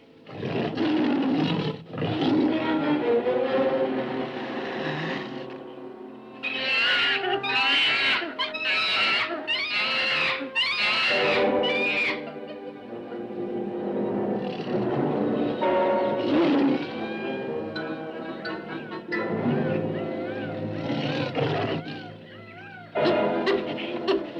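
A wounded tiger in the jungle roars over and over in a 1948 film soundtrack, the loud growling calls coming in long, rough bursts that overlap each other with hardly a pause.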